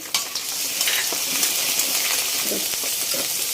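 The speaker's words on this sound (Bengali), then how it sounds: "এই যে আমি চিংড়ি মাছটা এর সাথে ভেজে নেব পেঁয়াজের সাথে।" Prawns fry with onion in hot oil, giving a bright, continuous crackling sizzle close up, with a few soft stirring scrapes and light utensil knocks.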